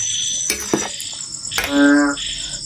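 Frogs and crickets call in a garden, a steady high insect trill running throughout with a louder harmonic croak near the end.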